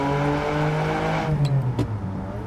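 A V12 Ferrari with a manual gearbox pulling gently in second gear, a loud deep engine drone rising steadily in pitch from inside the car, with a couple of short clicks and knocks near the end.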